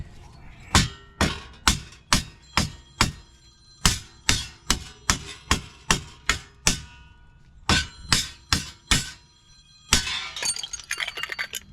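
Sharp metallic strikes ring out in a rapid, uneven series of about twenty hits while a worn wheel hub is pried and knocked off a 2019 Toyota Camry, each blow close and loud.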